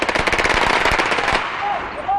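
Rapid bursts of gunfire from a hostage shootout between a gunman on a bus and police in Manila, a fast train of sharp loud shots for over a second, then quieter noise with faint tones.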